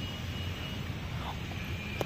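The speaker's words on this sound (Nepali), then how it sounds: "प्लेनहरू पनि आइरहन्छ।" An airplane passes over Koteshwor near Tribhuvan airport in Kathmandu as a faint, distant, steady engine drone blended with street background noise.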